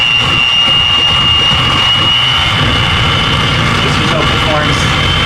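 An electric mixer whips cream on a low setting, producing a loud, continuous motor whir with a steady whine that holds unchanged from start to finish.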